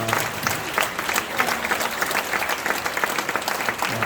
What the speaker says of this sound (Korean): 아주 끝까지 박수 주시네